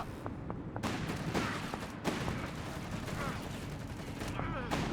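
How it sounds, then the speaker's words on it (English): Machine gun nest firing in Company of Heroes 3, with repeated bursts of distant gunfire and battle noise running steadily through the whole stretch, loud and dense throughout. "It's a machine gun pit here, clearly. Machine gun nest."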